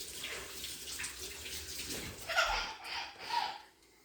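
Tap water runs into a kitchen sink while a stand mixer paddle is rinsed, a soft continuous splash with a few louder surges near the end before it fades out.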